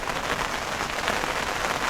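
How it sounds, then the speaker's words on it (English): Heavy rain falling steadily outdoors at a carp fishing spot, a dense, continuous hiss of drops striking surfaces, close and loud with no voices. "I'm just going to give it 5 minutes just to see if this rain stops"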